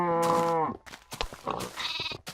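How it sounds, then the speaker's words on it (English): A baby sheep in the Minecraft video game lets out a loud, wavering bleat, followed by quieter clicks and a second fainter bleat, with no talking over it. "we get a little baby brown sheep"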